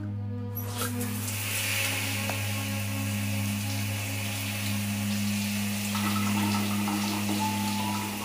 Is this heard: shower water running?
yes